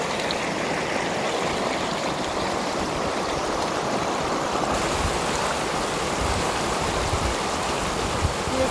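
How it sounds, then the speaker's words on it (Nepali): The Mechi River rushes over rocks in a continuous, close, fairly loud stream of churning water, steady throughout with no voices. "यो चाहिँ भयो हाम्रो मेची खोला"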